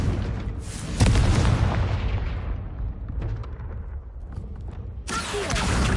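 A Confringo spell explosion in Hogwarts Legacy, a single loud booming blast that rolls off into a rumbling decay, followed by a second burst near the end.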